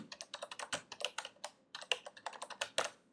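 Fingers type on a computer keyboard while entering a title in presentation software: quiet, close, rapid keystrokes in uneven bursts with brief pauses, and no talking.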